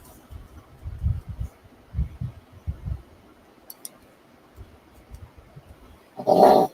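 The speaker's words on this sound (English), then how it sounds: "I'd like to apologize for my dog making a bunch of noises back there." A small dog, a pug, growls and whines softly from under a desk in a sequence of short low grumbles, followed by a louder, brighter burst at the end.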